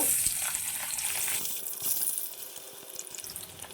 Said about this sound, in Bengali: বাকি ডিমগুলো আমি ভেজে নেব